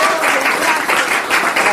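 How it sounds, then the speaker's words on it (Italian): A studio audience on a television music show gives dense, continuous applause. It stays loud and close from start to finish, with a faint voice mixed in. "Applauso del nostro pubblico."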